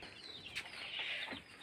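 Chickens cluck softly while they are being fed at a home, with a few short calls standing out over a quiet background.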